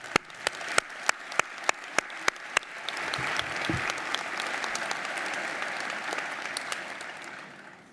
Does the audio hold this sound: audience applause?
yes